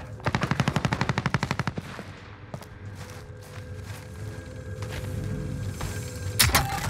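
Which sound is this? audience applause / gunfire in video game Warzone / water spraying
gunfire in video game Warzone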